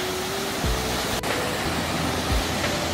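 Miin waterfall dropping over 50 m into a rocky canyon, heard as a steady, broad rushing hiss of falling water, constant and unbroken.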